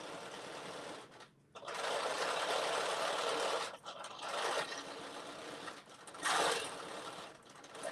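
A sewing machine runs quilting stitches on a zipper pouch, a steady close mechanical whirr and rapid needle clatter in long runs broken by a few brief pauses, with no voice.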